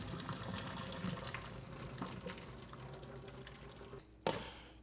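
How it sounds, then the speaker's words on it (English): Water from boiled potatoes pours steadily into a sink as a continuous low gush, then a sudden louder splash near the end. "And now we drain the water for the potatoes."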